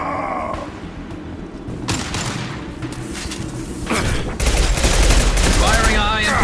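Heavy gunfire and booming blasts from the Mass Effect 2 video game, a dense continuous barrage that grows louder and harsher toward the end, with combat chatter and grunts in the mix.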